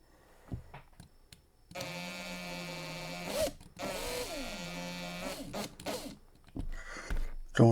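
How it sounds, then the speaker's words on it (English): A small drill boring into the roof of a toy car, with a couple of sustained whining runs that rise and dip in pitch between short pauses and light handling clicks, close up. "Don't want to drill through the whole roof."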